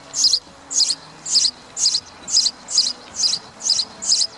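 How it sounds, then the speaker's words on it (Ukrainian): A house sparrow sings in a series of nine short, bright chirps, evenly spaced about half a second apart, clear and close against a quiet background. "Давайте з вами послухаємо, як співає горобець."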